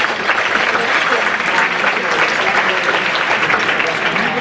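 Sustained audience applause welcoming a speaker, Carol Watson, to the stage at a conference on cardiovascular risk management, dense steady clapping from a large room at even loudness throughout.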